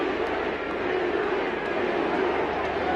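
A large stadium crowd at a 1989 New Zealand versus Australia rugby league test match roars continuously, a dense, loud wash of cheering voices with no breaks.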